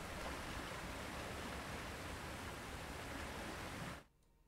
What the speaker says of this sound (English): Apparently a waterfall is a sound effect.